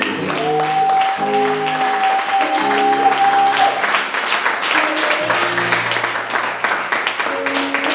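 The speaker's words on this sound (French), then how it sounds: "qu'on acclame le Seigneur pour le ministère de Seigneur." A church congregation claps together in a sustained burst of applause, with sustained musical tones or voices ringing through the clapping, fairly loud and continuous for the whole stretch.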